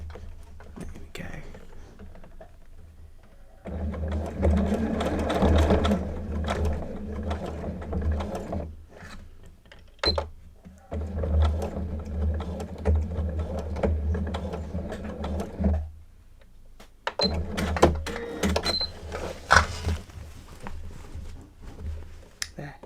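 A sewing machine stitches a project bag in two long runs of steady, close mechanical whirring, separated by brief pauses and followed by shorter bursts near the end.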